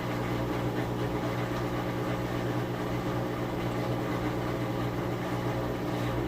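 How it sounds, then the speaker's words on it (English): A steady mechanical whir with a watery hum runs continuously as a Roper washing machine's drain pump removes the last water, constant in level with no speech. "What you're hearing there is the pump getting the last of that water sucked out."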